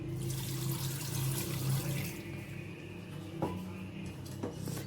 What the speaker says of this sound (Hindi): अब इसमें मैं थोड़ा सा पानी डाल के